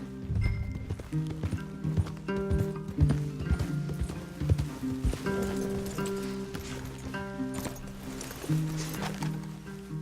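In Red Dead Redemption 2, horses walk along with steady, overlapping hoof clip-clops. The sound is close and moderately loud, with faint tack rattles and an occasional snort, and no one speaks.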